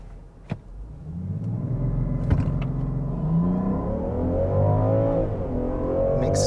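A 2023 Land Rover Defender 130 First Edition with a straight-six engine, nearly 400 horsepower and an 8-speed ZF automatic, accelerates hard from rest to 60, its loud, rising engine note climbing through gear changes with a couple of clicks early on.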